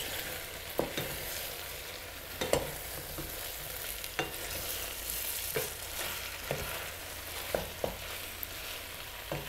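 Leeks fry and sizzle in a pan with a soft, steady hiss while a utensil stirs them, giving a scattering of light scrapes and taps, close and fairly quiet.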